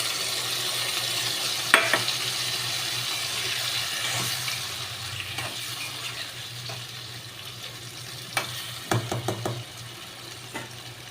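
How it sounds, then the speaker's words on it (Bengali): Fried taro sizzles in a pan as spice masala goes in. A constant hiss carries quiet stirring, with sharper clatters and scrapes near the start and again toward the end. "এবার আমি মশলাটাকে দিয়ে দিলাম।"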